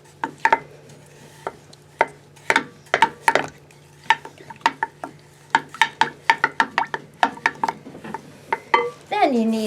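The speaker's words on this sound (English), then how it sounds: "I'm going to stir that up with my orange juice." Pear juice being stirred together with orange juice in a cup, a spoon tapping and clinking in a quick, irregular run of sharp knocks, close and moderately loud, with a steady low hum underneath and a short rattle at the end.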